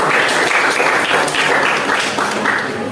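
A classroom of students claps together in dense, even applause, loud and close, sustained with no talk over it.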